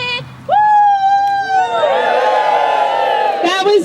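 Wedding guests let out a big group cheer of whoops and shouts that swells after a short pause, loud and sustained, then fades into chatter and a voice at the end.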